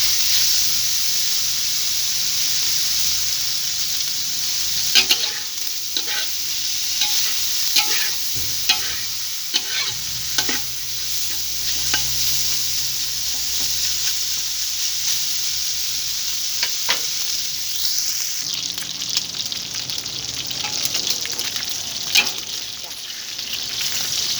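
Pork cracklings frying in oil for Thai chili paste, a steady close sizzle and hiss with scattered pops and stirring scrapes throughout, loud and continuous.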